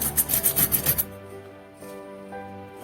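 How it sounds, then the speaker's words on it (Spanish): A dry paintbrush is rubbed over stone-textured nativity-scene columns. It makes a quick run of about seven close, rhythmic scratchy strokes lasting one second, followed by a quiet tonal background hum. "cuando apliques el pincel seco no hay que apretar mucho el pincel"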